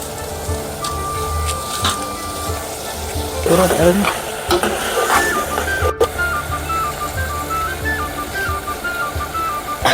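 Mutton frying in oil with chopped coriander added, a close, continuous sizzle with stirring clatter and a burst of louder crackling partway through, under a voice talking.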